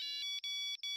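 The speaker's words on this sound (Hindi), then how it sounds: "ये मोबाइल किसका बज रहा है?" A mobile phone ringtone plays loudly and close by as a steady, bright electronic melody with a few brief gaps, and no one speaks over it.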